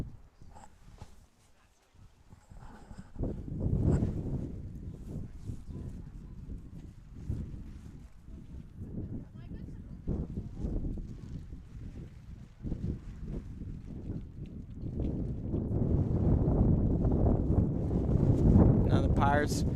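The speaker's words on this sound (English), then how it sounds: "And you're hearing that wind once again." Wind gusts across an outdoor field at a coastal six-a-side league game, buffeting the microphone with loud, rumbling surges that grow stronger toward the end, while voices are faintly audible underneath.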